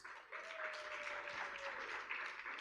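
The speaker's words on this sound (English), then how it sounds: "A round of applause." A conference audience at a tech summit in Uganda breaks into applause, a dense, even patter of many hands at moderate distance, with a faint steady tone running underneath.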